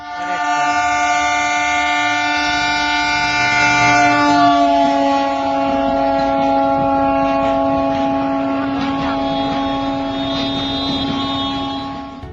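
A train running on rails, heard as a loud sustained horn-like tonal drone that gradually softens, over a steady rumbling hiss of rolling wagons.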